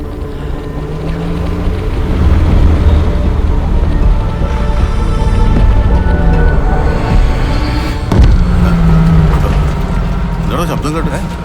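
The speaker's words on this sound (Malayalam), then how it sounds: "എനിക്ക് പോകാനുള്ള വണ്ടി വരുന്നുണ്ട്." A vehicle rumbles as it approaches, a heavy low engine drone that swells and holds with mechanical rattles and a sharp knock partway through.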